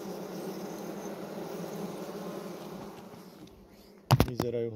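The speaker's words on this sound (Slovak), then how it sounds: "A vidíme včely teda, ako konzumujú už to medocukrové cesto." Bees at a hive feed on honey-sugar paste, giving a close, steady buzzing hum that fades somewhat before a sudden loud knock or handling noise at the end.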